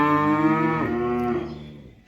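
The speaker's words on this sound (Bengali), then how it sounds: "এই হলো 7 নাম্বার একটা ফ্রিজিয়ান বকনা বাছুর।" A seven-month-old Friesian heifer calf lets out a single long, close, loud moo that bends in pitch midway and fades out at the end.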